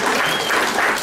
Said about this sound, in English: Can we have a round of applause for Chuck?